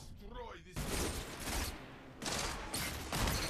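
Gunfire in Destiny 2 Trials of Osiris, a dense burst of shots layered with game effects and speech, loud and continuous through the moment.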